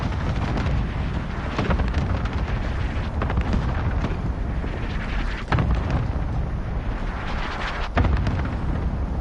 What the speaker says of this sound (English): Allied cluster strike inbound.